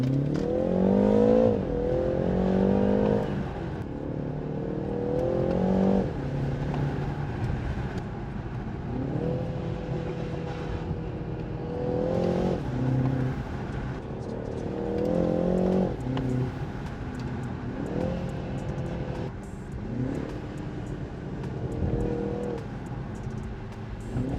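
A BMW engine revving hard under full throttle from inside, climbing in pitch through repeated quick gear shifts, a steady loud drone for the whole stretch.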